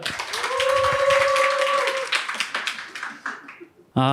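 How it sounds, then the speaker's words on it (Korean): An audience at a Korean seminar applauds in a burst of clapping that fades out over a few seconds, with a voice speaking over it at the start and again at the end. "모두 큰 박수 부탁드리겠습니다"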